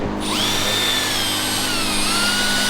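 A power drill spins up and runs steadily while a truck is being scrubbed clean, a loud close whine that rises quickly and then holds a sustained tone.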